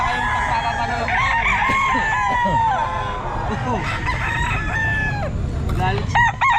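Roosters at a busy pet market in the Philippines crow repeatedly alongside clucking fowl, with a crowd chattering and voices talking throughout.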